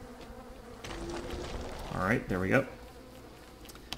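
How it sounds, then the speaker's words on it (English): Bees buzz in the survival video game Don't Starve: Reign of Giants, a soft steady drone that swells briefly in the middle, while someone speaks a few words. "A lot of bees here."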